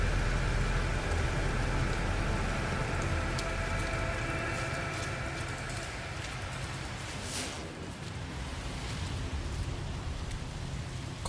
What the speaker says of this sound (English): So, what kind of a planet is this? With a harmful rain